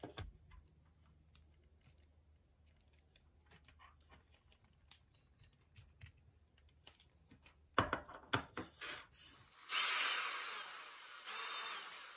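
A power drill drives screws into a servo bracket for a 12428 RC car servo swap; scattered light ticks and handling clicks come first, then a few short bursts and a sustained close whirring run near the end.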